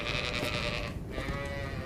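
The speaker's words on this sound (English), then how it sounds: "Come and help me tie up the sheep." Sheep bleating in an anime farm scene, a couple of drawn-out, wavering calls at moderate volume over a dense, noisy background, with no speech.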